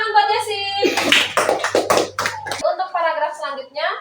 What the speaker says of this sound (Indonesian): Tepuk tangan buat Jessie.